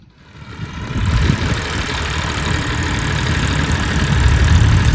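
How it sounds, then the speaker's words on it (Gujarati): A tractor engine running in a farm field for ploughing, a steady loud low rumble that rises from near silence and holds at a constant idle-like drone. "બસ આપણે શેડા કરવાના છે ટ્રેક્ટરથી"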